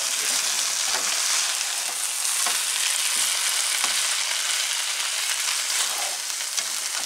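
Corned beef hash fries loudly in a pan with a dense, constant crackling sizzle. Occasional soft scrapes come from stirring and turning.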